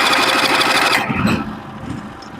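The engine of a portable sawmill milling barn board runs loud and close, a rough mid-pitched rattling drone that eases down in intensity partway through.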